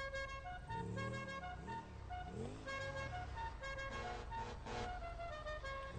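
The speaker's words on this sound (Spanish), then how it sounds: "Espero que se escuche el claxon porque mola mucho" A Pegassi Bati motorcycle's horn in GTA V sounds in repeated tonal blasts over steady engine and background music, loud and close.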